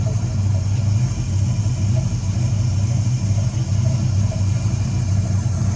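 A Chevy box Chevy engine runs steadily after a tune-up, giving a continuous low rumble at an even idle with no revving, close and fairly loud, with no voices.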